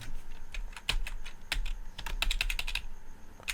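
Someone types code on a computer keyboard, a quick irregular run of crisp key clicks close by over a faint steady hum, with no voices.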